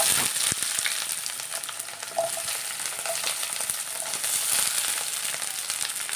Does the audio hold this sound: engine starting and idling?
no